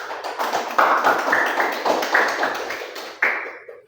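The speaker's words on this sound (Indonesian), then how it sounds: "kita kasih aplaus dulu kepada teman-teman kita" Classmates give scattered applause after a group presentation in a classroom, with a handful of fairly quiet, uneven claps that fade out near the end.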